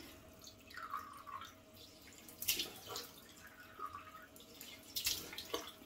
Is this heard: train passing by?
no